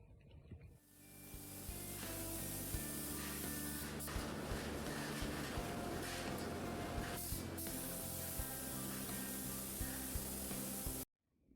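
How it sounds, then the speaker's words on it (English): Powder coating spray hitting a ceiling fan blade, a loud continuous hiss that starts abruptly, holds steady for about ten seconds with machine hum beneath, then cuts off sharply. "The blade is sprayed using powder coating method."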